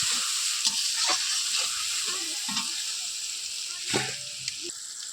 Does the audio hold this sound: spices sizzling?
yes